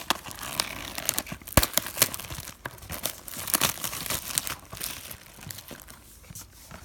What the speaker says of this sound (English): Just a little cut for the plastic.